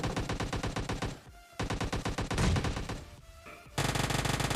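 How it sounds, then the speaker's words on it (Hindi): Rapid bursts of gunfire from both sides in the PUBG Mobile Lite battle royale game, loud repeated automatic volleys with short gaps and a dense final barrage. "यहाँ से दोनों तरफ से फायरिंग चल रही थी"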